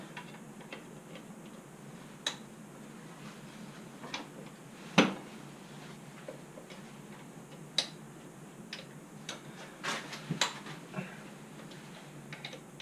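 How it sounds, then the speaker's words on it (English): Rear axle bolt on a Yamaha Super Tenere being tightened with a wrench, giving faint, irregular ratchet-like clicks and ticks, one sharper snap midway, against a quiet garage background. "now we just need to tighten the axle bolt"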